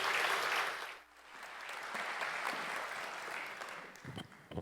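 Audience applause welcoming the alumni association president at a university presidential inauguration ceremony, a broad, fairly faint wash of clapping that swells and holds, with a few sharper claps near the end.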